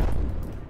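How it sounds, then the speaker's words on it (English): A deep, booming explosion rumbles heavily for under a second in the online shooter game Shooty Squad, loud and low with no voices over it. "Oh my goodness, I just heard an explosion"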